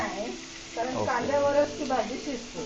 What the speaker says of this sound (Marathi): कांदा आपल्याला फक्त नॉर्मल असा परतून घ्यायचा आहे